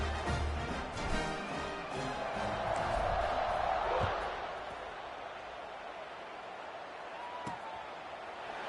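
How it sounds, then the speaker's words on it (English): Stadium crowd in the NCAA 26 college football video game, Cal Tech versus Colorado, buzzing after a score: a steady broad roar under a commentator's voice, swelling midway then easing. "this crowd is buzzing after that last score"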